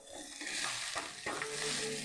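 Turmeric sizzles in hot oil in a pan while it is stirred, giving a steady crackling fry broken by a few scraping strokes of the spoon. The sound is close and fairly quiet, with no speech.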